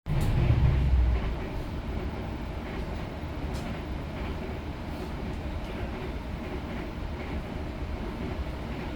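The Cirebon Fakultatif passenger train between Cirebon and Jakarta rolls along the rails with a steady low rumble and faint rhythmic clatter, heard from inside, continuous and even.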